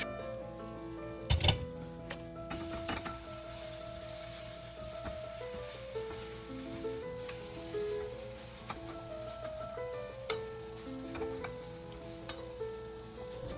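Eggs fry with spicy beef in a skillet, a faint continuous sizzle under light ticks and clinks of a utensil, with one sharper knock near the start.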